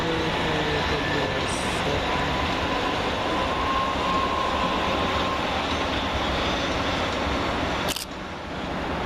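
A Southern Railway class 377 electric multiple unit runs through Gatwick Airport station on the London Victoria to Eastbourne service, giving a steady, loud rumble of wheels and motors throughout with a brief sharp squeal near the end.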